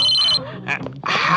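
A mobile phone rings loudly nearby with a bright electronic ringtone that starts and stops in bursts, while someone speaks over the ringing in a comedy sketch.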